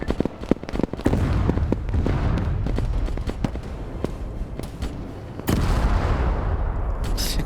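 Starship Troopers game combat with a steady barrage of sharp cracks and booming detonations, loud and close, as exploding bugs are fought amid continuous gunfire.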